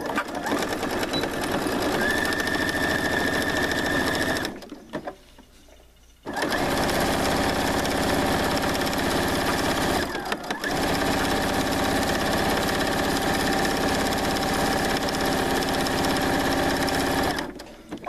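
A sewing machine stitches around the edge of a placemat in long, steady runs of rapid needle chatter, broken by a near-silent pause of about two seconds and a shorter dip later, with no talking.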